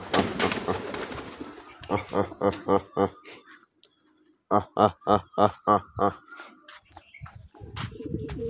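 Pigeons at a home pigeon farm, being fed mustard seed, coo in two clear runs of rhythmic, throaty pulses, each about half a dozen beats long. A voice and some bustle are heard at the start.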